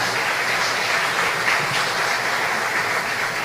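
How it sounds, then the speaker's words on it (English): Steady, dense clapping from an audience at a tribute ceremony honouring Belizean patriots, a continuous even wash of applause at moderate loudness with no voices over it. "Another round of applause for Eldon Stone Jam Hyde."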